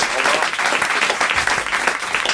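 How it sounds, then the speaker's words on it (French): Studio audience of a French radio show applauding steadily, a dense and fairly loud patter of many hands sustained throughout with no voices on top. "Merci Sylvie, on vous applaudit, on vous embrasse."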